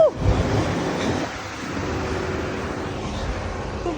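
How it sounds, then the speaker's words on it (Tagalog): A train rumbles past a runner on a car-free day in Kuala Lumpur, Malaysia, a loud, continuous roar with faint rail screeches. It stays steady and close for the whole stretch, with a brief surge near the start. "Tapos may dadaan pang tren."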